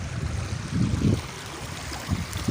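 Steady rushing floodwater overflowing along a muddy road flows continuously with a low, churning rumble, no voices present.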